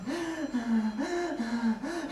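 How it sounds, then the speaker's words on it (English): Quick, rhythmic breaths repeat three times in even cycles, each a rising and falling voiced gasp, close and fairly loud with no other talk. "Do you hear that quick breathing?"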